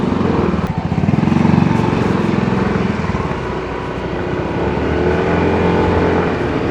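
Yamaha NMAX scooter engine revving hard with torque boost, a loud continuous drone rising and holding steady close by, mixed with road and wind rush throughout.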